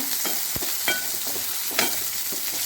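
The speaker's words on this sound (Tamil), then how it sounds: "நல்லா ஒரு கைப்பிடி அளவுக்கு கருவேப்பிலை போட்டுக்கோங்க. இதையும் போட்டு நல்லா வதக்கிக்கோங்க." A handful of curry leaves sizzles and spits in hot oil for village-style mutton gravy, a loud, steady frying hiss close by, broken by occasional clacks of a spoon against the pan.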